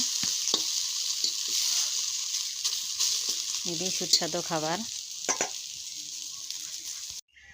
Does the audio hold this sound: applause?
no